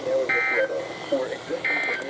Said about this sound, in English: This ends the test of National Weather Service weather radio warning alarm.